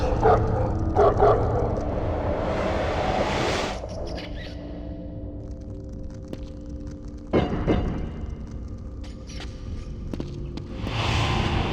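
Hounds in The Suffering bark and yip in loud bursts, with whimpers and footsteps among dense game noise and a rumbling ambience.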